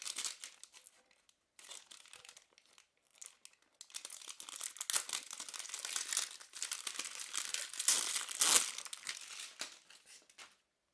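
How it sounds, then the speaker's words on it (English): Plastic wrapper peeled off a Jean Paul Gaultier Le Male Pride Collector Eau de Toilette can, heard as close, sharp crinkling and tearing in bursts with short pauses, building into a longer stretch of crackle near the end. "open up the can by, of course, peeling off the plastic wrapper"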